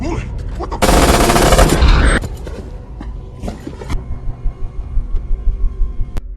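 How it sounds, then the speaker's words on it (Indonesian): A loud burst of automatic gunfire in a mafia action film lasts about a second and a half, then gives way to a low rumbling background with scattered sharper hits. "Balik di sini berhasil menembak si Mamangha dan juga si Dave"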